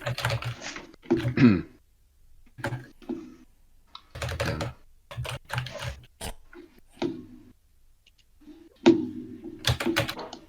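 Computer keyboard typing in quick irregular bursts with short pauses between them, fairly close and clear, with no one speaking.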